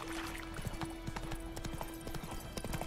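Horse hooves clip-clop at a quick galloping rhythm in the video game The Witcher, steady and moderately close against a faint background hum.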